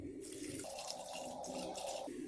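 Water pours steadily into a pan to dissolve jaggery for neiyappam, a continuous close splashing fill lasting a couple of seconds with no talk.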